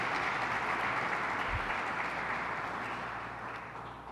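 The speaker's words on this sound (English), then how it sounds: "Can we give the Governor another round of applause for her leadership?" Steady, broad applause from a crowd at a public safety update for Governor Kathy Hochul, sustained and even, easing slightly toward the end with no talk over it.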